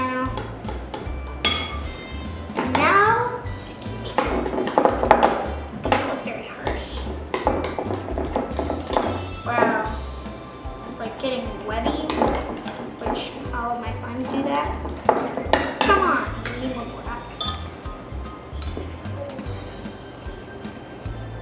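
Glitter slime made with borax is stirred in a bowl, with scraping, clinking taps of a utensil against the bowl in an uneven rhythm while a person talks over it.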